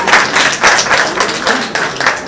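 Brief burst of clapping from a crowd, a quick irregular patter of hands at moderate loudness.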